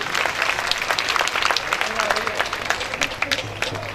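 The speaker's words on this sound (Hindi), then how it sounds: "एक बार जोरदार तालियां इनके लिए।" Sustained audience applause at a Srimad Bhagwat Katha event, many hands clapping steadily and fairly close, with someone speaking over it toward the end.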